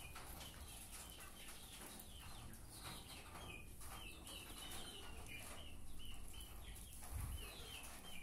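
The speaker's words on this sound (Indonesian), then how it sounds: "di sini sendiri itu sudah lumayan banyak ayam dan alhamdulillah semuanya sehat" Chickens in a coop clucking and chattering continuously at a steady low level, with occasional wing flaps and a faint rooster-like call among the flock.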